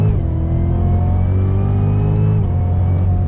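A Cadillac CTS-V Championship Edition sports sedan engine rises steadily in pitch as it accelerates hard, loud and close, with a brief dip as it shifts gear.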